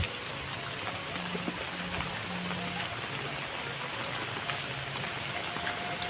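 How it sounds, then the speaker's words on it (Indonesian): Steady rain falls on a village in Putrajawa, Selaawi, Garut, in the afternoon, a dense continuous patter of drops on surfaces throughout with a faint low hum beneath and no voices. "Ini suasana sore hari lagi turun hujan"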